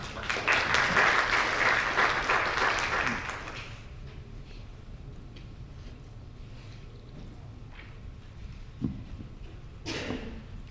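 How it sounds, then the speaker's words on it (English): Audience applause at a conference, a few seconds of moderate clapping that fades out, followed by quiet room noise with scattered faint knocks. "Please give her a round of applause."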